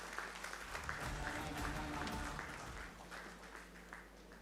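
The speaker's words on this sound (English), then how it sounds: "With a thunderous applause, let us welcome Comrade Rupam Roy sir to the podium" Applause at an officers' association general body meeting in a hall welcoming a keynote speaker, heard faintly and at a distance as a soft continuous patter over a low hum.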